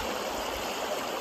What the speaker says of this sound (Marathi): नदीला लागून वाहणारी झुळझुळ नदी,